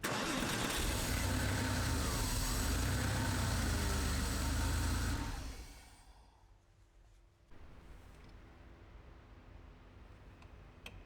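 A Porsche 964 engine runs loud and steady close by for about five seconds, then shuts off, leaving a faint low hum.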